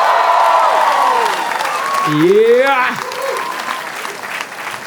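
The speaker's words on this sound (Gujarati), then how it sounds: "Huge round of applause." Studio audience on a Gujarati comedy talk show applauds to welcome a guest, sustained dense clapping at close range with a host's voice speaking over it.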